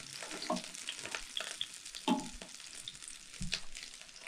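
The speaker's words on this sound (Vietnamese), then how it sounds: "em mới đang rán thôi mà ở đây thì rán với lại mớ lợn" Cakes sizzle and crackle as they fry in pork caul fat, a steady hiss with scattered pops and occasional stirring or scraping clatter, close and moderately quiet with no one speaking.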